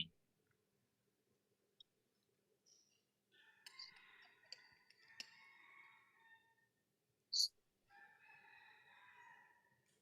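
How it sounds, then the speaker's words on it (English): A rooster crows twice at a distance, each call a drawn-out, fairly faint cry over a quiet room, with a sharp click between them. "Could you hear the chicken roaring?"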